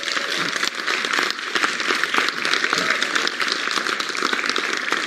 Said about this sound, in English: Okay, please, just huge applause.